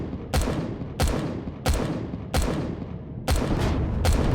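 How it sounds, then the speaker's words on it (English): HV cannons firing in the Empyrion Galactic Survival game, a series of sharp booming shots at roughly regular intervals, each with a decaying rumbling tail, loud and close with no talk. "You can have 4 of those cannons just going blah, blah, blah."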